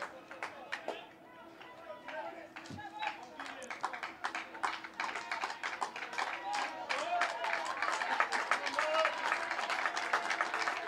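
A college baseball crowd at an Ohio Bobcats versus Western Michigan Broncos game claps at a full count, with scattered claps that build into rhythmic clapping and chatter while a commentator speaks over it.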